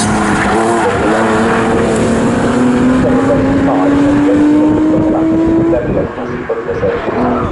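Pre-1993 and pre-2003 touring race cars at Snetterton circuit. A loud, droning engine note climbs steadily in pitch as a car accelerates, then drops away abruptly near the end, with other engines roaring underneath.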